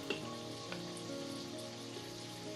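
Diced green bell peppers and celery sauté in an Instant Pot, giving a faint, steady sizzle and crackle with a few soft stirring taps and no voices.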